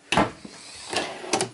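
Wooden drawers in a 2022 Grand Design 23LDE travel trailer slide open and shut a few times, with two or three soft thumps and rolling scrapes close by, no talking.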